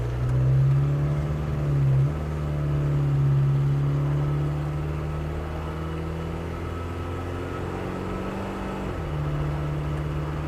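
A 1986 LTI FX4 London taxi with a diesel engine accelerates, its steady low clattering drone rising and shifting in pitch through the gears, heard close from inside the cab with the windows up.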